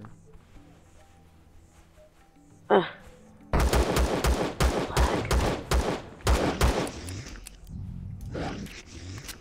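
A starting pistol fires at a small dinosaur in the space survival game Empyrion Galactic Survival: after a brief voice-like sound, a quick string of about seven sharp shots rings out, followed by a fading tail.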